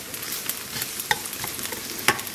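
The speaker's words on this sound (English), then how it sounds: "stir this around for a minute or so" Onion frying in a pan while being stirred, a steady moderate sizzle broken by a few sharp scraping clicks of the utensil, with no voices.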